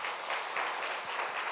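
A church congregation at a Friday mission prayer meeting applauds: a dense, steady wash of clapping that fills the whole short moment.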